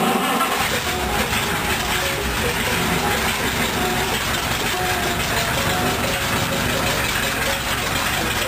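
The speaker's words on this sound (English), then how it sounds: "I've jacked the back wheels off the ground here so that I can rev this thing up a little bit." A rat rod roadster's engine runs steadily close by with its rear wheels jacked off the ground, a rough mechanical drone holding fairly even, with no talking.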